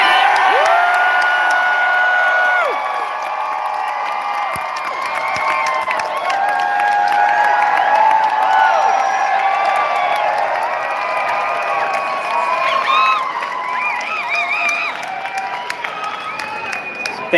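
A convention crowd at a Star Wars: The Old Republic fan cantina event in Chicago yells, whoops and cheers loudly and continuously, with scattered clapping in a large indoor space.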